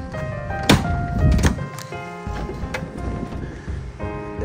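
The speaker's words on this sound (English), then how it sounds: "Let's go ahead and bring down the lift." A BraunAbility power fold-out platform wheelchair lift lowering at the rear entry of a 2020 Ram Promaster 1500 van, with a steady mechanical whine punctuated by a few metallic clunks and thuds close by.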